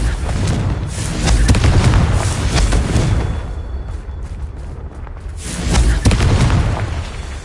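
A fire-spell explosion in a video game booms in heavy, rumbling bursts, swelling loud at the start and again near the end with a dense low roar between.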